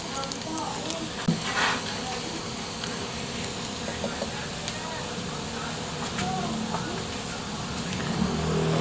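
Two crushed onions sautéing with browned garlic in a pan for pork asado: a dense, steady sizzle and crackle that runs unbroken throughout, close and fairly loud, with a possible faint voice underneath.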